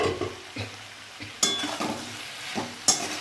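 Softened tomatoes stirred in a frying pan for a cabbage, potato and pea curry, a quiet sizzle broken by a few scraping spatula strokes and two sharp clinks against the pan.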